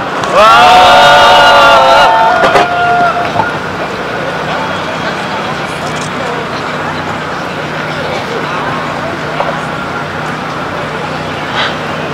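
An outdoor candlelight rally crowd in Incheon applauds a citizen speaker. A voice speaks briefly at first, then a broad, even wall of clapping and crowd noise carries on steadily with a few louder bursts.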